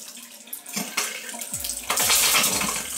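Water gushes from a kitchen sink faucet spout where a washing machine is being hooked up. It begins with faint splashes, then swells into a steady, loud pour close by.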